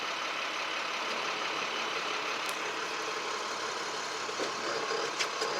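Truck engine running steadily as the clutch is slowly released during an air brake test, a constant mid-level rumble with faint brief clicks, no talking.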